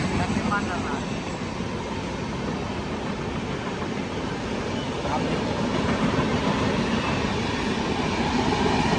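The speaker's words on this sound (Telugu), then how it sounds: "ఇప్పుడే సికింద్రాబాద్కి అయితే ఒక ట్రైన్ అయితే పోతుంది" A train bound for Secunderabad rumbles steadily past at close range near Cherlapalli railway station, a continuous broad roar of rail noise that holds level throughout with no break.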